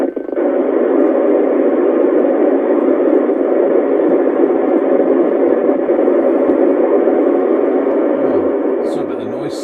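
Steady loud hiss and static of a Uniden Uniace 200 CB radio picking up someone transmitting on the Midland band, a continuous band of noise with a brief warbling tone near the end.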